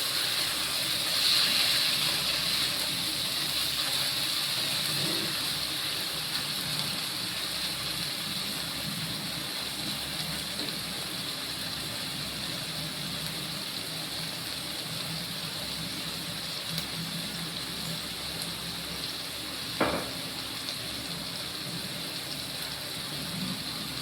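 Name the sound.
stirring food frying in an open pan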